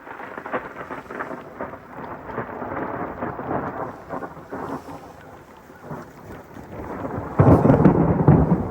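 Thunder from a lightning storm over a lake during a bass fishing tournament rumbles continuously and loudly overhead, with steady rain hissing underneath and a sharper, louder surge of rumble near the end.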